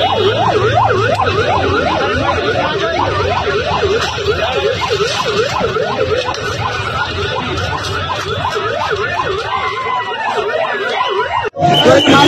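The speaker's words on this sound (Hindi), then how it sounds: "जैसे ही हंगामा हुआ पुलिस की गाड़ी भी वहां पहुंचती है" A police vehicle siren wails continuously at a protest scene, its rising and falling tone repeating loudly and close for about eleven seconds over a busy street, then cutting off abruptly near the end.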